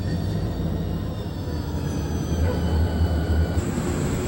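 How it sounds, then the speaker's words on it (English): A Conrail freight train rolls down the middle of Main Street in West Brownsville, a steady low rumble and rattle of railcars that swells slightly toward the end, with a faint high tone entering late. "Our first train is captured running down the middle of Main Street in West Brownsville."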